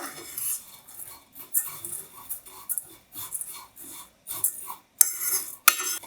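Fideo noodles being stirred as they toast in a pan, with repeated scraping and clinking of a utensil against the pan in short irregular strokes, fairly close and soft.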